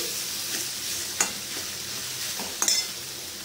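Banana stem with poppy seed paste is stir-fried in a pan, giving a close, steady sizzle with two sharp scraping stirs of the spoon against the pan.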